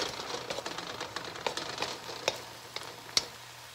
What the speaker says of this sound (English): We'll let that kind of simmer in the pan for a couple seconds